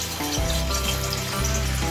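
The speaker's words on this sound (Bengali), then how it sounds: "পনিরগুলো হালকা করে ভেজে নেব।" Paneer pieces fry in a pan with a steady, close sizzle and a sustained tonal hum layered over it, with no talking.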